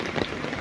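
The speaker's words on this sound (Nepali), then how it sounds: "एकदम पानी पर्यो, गाह्रो छ।" Heavy rain pattering steadily on an umbrella and wet ground during a walk at dawn, a dense close hiss with small irregular drop taps throughout, no voices.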